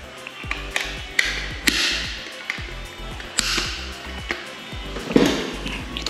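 Loosening the screws of a 20A electrical switch during fitting, a run of small ratcheting clicks and metallic taps repeating at an uneven pace, close and fairly loud.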